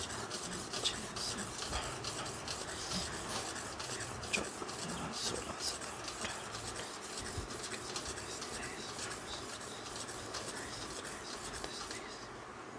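Rough, steady rasping of a pigeon feed ball rubbed back and forth on a stone, a continuous close scraping texture running throughout with no voice over it.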